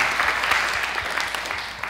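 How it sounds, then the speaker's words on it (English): Audience applause at a literary talk, a brief, steady wash of many hands clapping at moderate loudness. "I'd love to give Dee a round of applause for getting us started"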